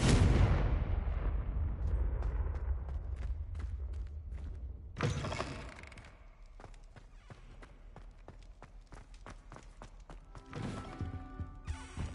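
A Confringo blasting curse bursts in Hogwarts Legacy, a loud booming explosion that rolls off into rumble, followed by a second blast and scattered crackling debris impacts.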